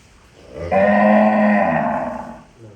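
A single long, deep moo from a buffalo, starting abruptly, holding steady for nearly two seconds, then fading, close and loud with no talking.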